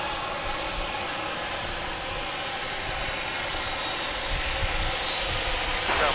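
An American Airlines Boeing 737-800 airliner arriving at DFW Airport from Mexico City makes a steady, loud jet roar that holds evenly throughout, with no talking.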